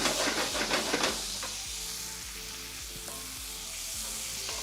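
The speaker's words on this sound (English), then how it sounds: "Going to shake the pan." A pan of garlic and chili frying for a vegan aglio olio pasta with asparagus, shaken and sizzling: a brief burst of rattling agitation, then a steady close hiss with faint background music.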